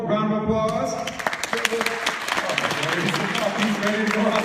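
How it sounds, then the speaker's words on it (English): A crowd applauds at a campaign event for US Senate candidates in Colorado, dense clapping filling the whole stretch while voices and musical tones carry over it. "give one more round of applause"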